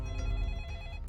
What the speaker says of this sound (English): There is a phone call.